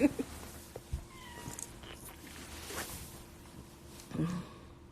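A cat meows twice in a quiet indoor space, a short call at the start and another near the end, both soft and close, with faint shuffling between.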